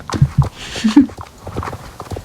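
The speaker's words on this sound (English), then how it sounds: "I guess we'll go at a semi-trot." Horse hooves trotting in the online game Star Stable Online, a quick uneven clip-clop of several close footfalls at a semi-trot with faint background voices.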